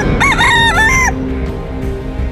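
A bantam rooster crows once, a loud, close, strained cock-a-doodle-doo lasting about a second. A muffled noisy background with faint bird calls follows.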